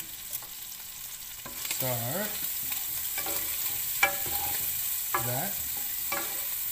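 Bacon and mushrooms frying in a pot for chicken chasseur: a constant close sizzle under repeated stirring scrapes, with a few brief bits of talk.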